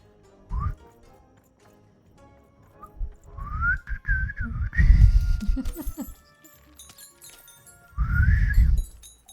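A person attempts to whistle, producing a few breathy, wavering tones in short bursts, mixed with airy blowing and bits of voice.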